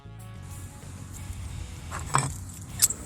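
Thin steel pieces, cut bandsaw blade and pallet strap, clink and jangle as they are stacked in alternating layers over a low steady hum, with a sharp metallic tap near the end.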